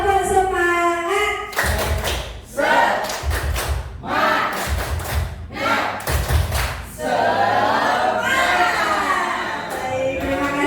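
An Indonesian teachers' group stands and does a rhythmic clapping chant: bursts of sharp synchronized claps and thumps alternate with shouted chanting, loud and close.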